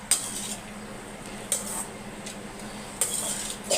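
Lemon rice being mixed in a metal vessel, with a utensil scraping and clinking against the pot in sharp strikes about every one and a half seconds over a quiet background.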